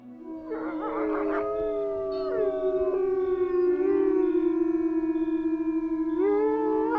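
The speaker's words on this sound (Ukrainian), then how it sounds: "Собаки безхатні на місяць виють" Stray dogs howling at night, several long wavering howls overlapping and sliding in pitch, steady and fairly clear at middle distance, with no voices.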